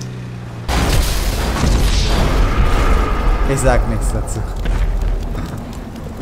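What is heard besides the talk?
explosions in video game GTA 5 Online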